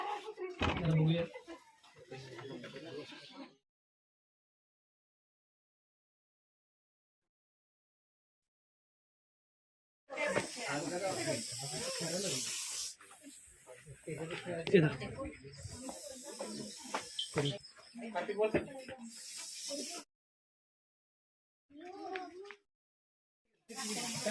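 Two venomous snakes, reportedly very agitated, hiss close to young children, with harsh bursts of hiss mixed into steady, overlapping human talk and shouting and broken by quiet gaps.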